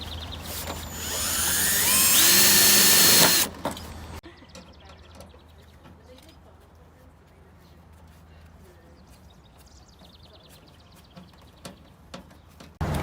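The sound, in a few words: drill driving screw into metal downspout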